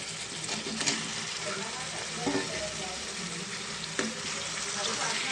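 Drumsticks frying with softened tomato and onion in a pan for an egg curry, a steady loud sizzle with occasional stirring scrapes and clinks.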